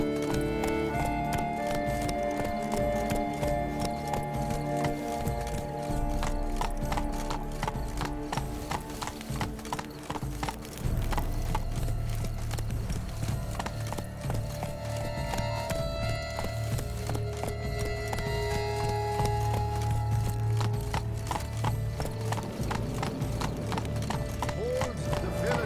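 Horse hooves gallop in The Witcher 3, a fast, continuous clip-clop rhythm beneath spoken dialogue and background music, the footfalls sounding close throughout.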